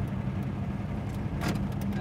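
A 1958 Plymouth Fury's engine runs as the car is driven, a low steady rumble close by, with a short brighter burst of noise near the middle.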